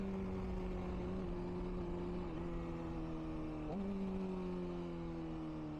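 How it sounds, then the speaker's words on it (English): A 2024 Honda CBR600RR motorcycle engine runs steadily with a sustained harmonic drone, its pitch dipping slightly through downshifts, with a quick auto-blip rev jump near the four-second mark, loud and continuous without talk. "The auto blip on this is just, yeah, amazing."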